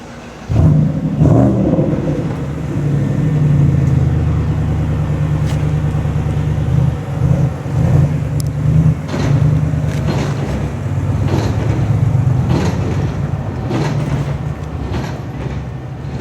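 The Morgan Speedster's engine starts at the car factory and then runs steadily with a deep, loud idle. It revs in short bursts several times across the stretch, with no talking.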